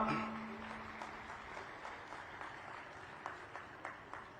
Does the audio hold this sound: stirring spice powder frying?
no